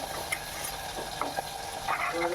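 Turmeric, chili powder and salt being stirred into a pan of frying parshe fish, a low steady sizzle with soft scraping strokes, fairly quiet and close, no voices.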